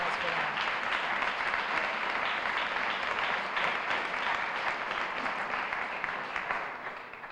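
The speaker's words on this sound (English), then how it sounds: "Let's have a round of applause for that." A crowd at an International Women's Day celebration claps steadily, a broad sustained wash of applause that holds throughout and tapers slightly at the end.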